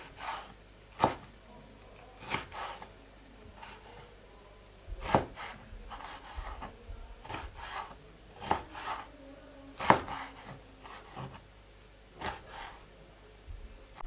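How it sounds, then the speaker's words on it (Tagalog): A knife slices through tomatoes on a cutting board, giving about a dozen distinct thuds and scrapes. They come at uneven, unhurried intervals, close by and fairly quiet, with no talking. "Hiwa po tayo ng tomato."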